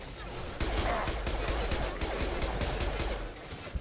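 Rapid gunfire in the video game Mass Effect 2 with a sniper rifle in the mix, a dense crackle of repeated shots and impacts that continues without a break, loud and close, with no speech over it.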